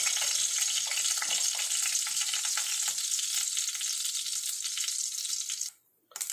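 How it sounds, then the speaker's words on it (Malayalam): Loud, dense sizzling and crackling of mustard seeds popping in hot oil, continuous and close, then cutting off abruptly near the end. "കടുക് ഇട്ട് പൊട്ടിയിട്ടുണ്ട്"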